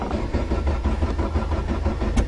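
Old Topaz car engine turning over and running in winter cold, an uneven mid-pitched rumble with pulsing irregular firing, close and steady throughout, no speech.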